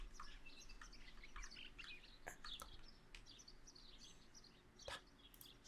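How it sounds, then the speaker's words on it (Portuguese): A parakeet in the video game Martha Is Dead chirps in short bright tweets over a steady outdoor ambient bed, with a few sharper calls standing out. "Se liga esse periquito."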